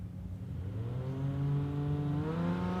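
An A-class drag racing car accelerates hard down a dragway, its engine tone climbing steadily in pitch over a few seconds, loud and close with no talk.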